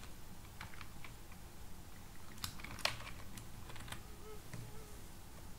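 Quiet, irregular clicks of a computer keyboard as spaces are typed into HTML code, several soft taps scattered over a faint background hum, no speech.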